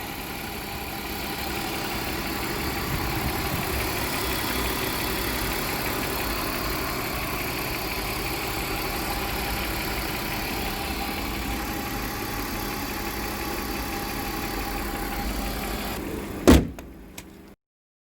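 A BMW 325 TD diesel engine idles steadily at close range, a low, even rumble that runs unbroken, then ends with a sharp knock like a door or hood closing.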